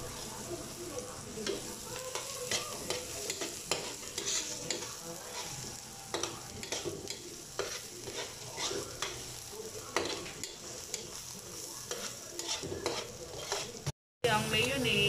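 Onions and chili sauté in butter in a pan, giving a continuous crackling sizzle with frequent stirring scrapes, close and fairly loud, with a brief gap near the end.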